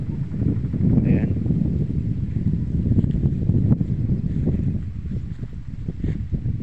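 Steady outdoor wind of the northeast monsoon breeze in rural Quezon province buffets the microphone as a continuous low rumble throughout, with a voice speaking faintly beneath it.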